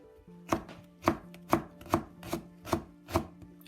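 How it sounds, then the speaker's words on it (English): A knife slices pork on a cutting board for fish-flavored shredded pork, giving seven crisp, evenly spaced chops in a steady rhythm, close and clear, with a faint hum beneath. "We slice it like this."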